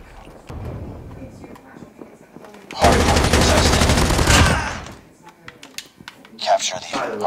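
Rapid gunfire from a first-person shooter match bursts out in a dense, loud volley lasting about two seconds, set between stretches of excited player chatter and softer in-game noises.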